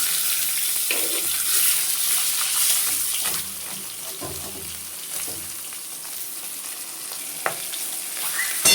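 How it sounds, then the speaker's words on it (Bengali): A rohu fish head fries in hot oil in a pan, giving a steady, fairly loud sizzle with a few sharp spatters and light clatters, and no voices. "মাছের মাথাটাও ভাজা হয়ে গেছে"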